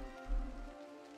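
Steady rain falls in a wooded setting in the video game Pluviophile, a soft, even patter that continues alone under faint tonal background music.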